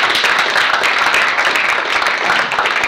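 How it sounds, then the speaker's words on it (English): Dense, steady audience applause at a talk on race and sports fills the whole stretch, continuous and fairly loud with no voices over it. "You can applaud."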